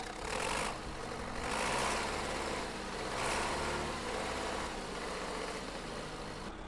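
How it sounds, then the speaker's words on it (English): A tractor engine in the farming game Farming Simulator 2013 runs as it starts up, giving a steady, fairly loud rumbling drone that swells and eases in slow pulses, with no talking. "this tractor takes forever to start up"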